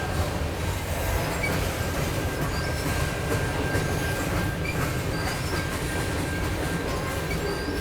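A train rumbles steadily past nearby, with a continuous low roar of wheels on rails and a faint high metallic whine running throughout.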